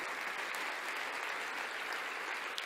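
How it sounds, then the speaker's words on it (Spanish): A church congregation applauds during a Spanish-language service, a dense, steady roar of many hands clapping at once that holds evenly for a few seconds with no voices over it. "Dale un aplauso a Dios por el regalo de la Biblia"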